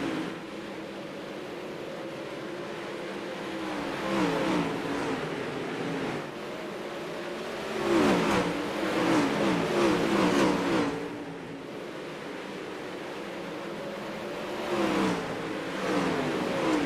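360 sprint cars roar around the Knoxville Nationals dirt track in an A-main race, a sustained loud engine drone that swells as the field passes close and eases as cars move away.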